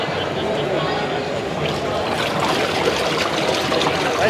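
A 3.5 trolling motor runs at a fishing trade show, pushing water in a steady, close, continuous churning wash with no break over the whole stretch.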